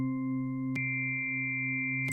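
A sustained synthesizer tone holds steady, then briefly clicks and shifts to a brighter sound as higher harmonics join in.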